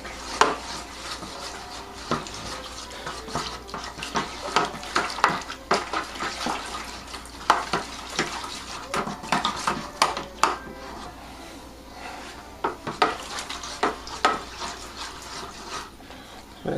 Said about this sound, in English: I'm going to be continuing to stir pretty much like a lunatic